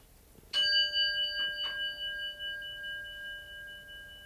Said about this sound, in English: Before we play, ring the bell.